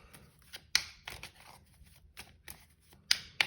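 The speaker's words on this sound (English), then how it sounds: "So I just want to give it a little pre-shuffle shuffle." A deck of tarot cards being shuffled by hand, a series of crisp riffles and sharp card slaps at irregular intervals, close and clear, with no talk.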